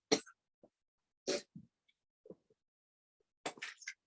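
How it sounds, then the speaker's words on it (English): A woman coughs several times during a talk on skincare, short dry bursts spaced out with quiet gaps between them, close and fairly soft. "1 second, because I'm going to cough."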